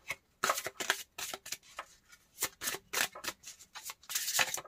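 A deck of oracle cards being shuffled by hand, with rapid rustling riffles and flutters in repeated bursts, close and clear, and no talking.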